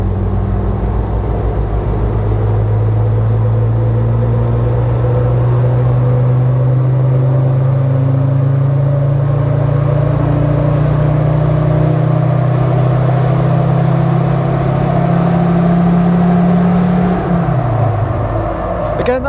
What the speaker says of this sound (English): So wide open throttle now. Coming on boost real nice